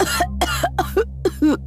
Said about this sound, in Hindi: उसकी माँ जोर से खांसने लगी